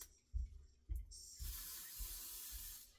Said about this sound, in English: I'm going to spray it a little more liberally than I normally would